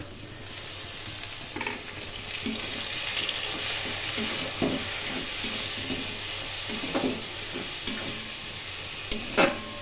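Ginger, chili, garam masala and garlic paste frying in hot oil in a pan for mutton curry, a steady close sizzle with periodic scrapes and stirs of a utensil.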